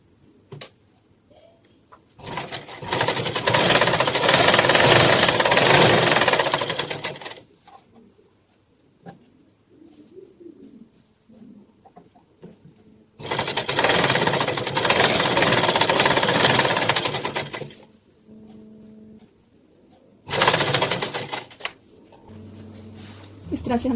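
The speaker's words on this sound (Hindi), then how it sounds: "अब हम साइड की स्टिचिंग कर रहे हैं।" A sewing machine stitches the side seams of a kurta in three loud whirring bursts of several seconds each, separated by quiet pauses with faint handling sounds and someone speaking.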